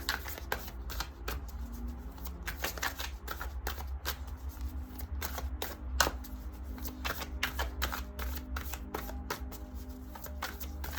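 Tarot cards being shuffled at close range, a rapid run of crisp riffling snaps and slaps with small pauses, fairly quiet, and no talking.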